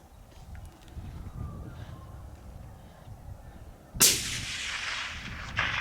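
A single sharp rifle gunshot fired at a target outdoors, a loud crack with a rolling echo, preceded by quiet ambient noise.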